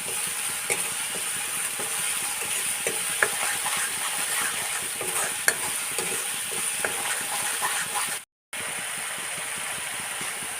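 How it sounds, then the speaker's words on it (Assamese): Garlic, ginger and green chili fry in a pan with a steady sizzle, while a utensil scrapes and stirs in frequent light clicks; the sound stays fairly loud and close and breaks off briefly near the end. "নহৰু, আদা এইখিনি কেঁচা গোন্ধ যোৱালৈকে ভাজি লৈছোঁ।"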